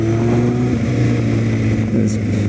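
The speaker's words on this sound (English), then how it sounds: "There's a Harley. He's taking it pretty quick for a big hog of a bike." A Harley-Davidson motorcycle takes a curve on the winding Mulholland Snake road, its deep engine rumble steady and close with some wind noise throughout the short stretch.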